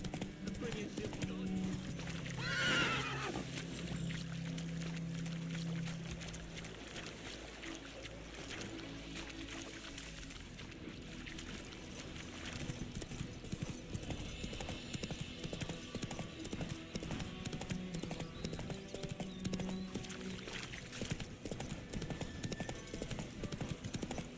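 Roach the horse from The Witcher 3 gallops in a steady, fast clip-clop of hooves that continues throughout, with a short voice and a horse sound early on.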